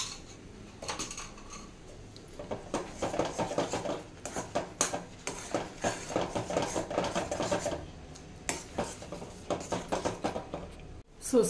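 A spoon scrapes and taps steadily against a pan as sheera (suji halwa) is stirred with added ghee, quick rhythmic metallic clinks continuing for several seconds, close and fairly loud.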